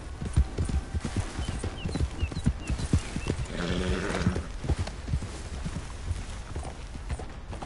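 Horse hooves clip-clop steadily in Red Dead Redemption 2, a close, even trotting rhythm that runs throughout, with a brief whinny in the middle and no talking.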